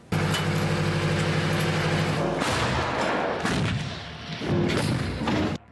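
An M109 self-propelled howitzer fires: a loud, booming blast followed by a long rumbling roar, then another sharp boom near the end, with engine-like drone throughout.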